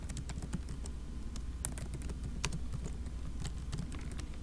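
Quick, irregular clicks of keys being pressed on a computer keyboard, fairly faint and close, with short bursts and pauses over a low background hum.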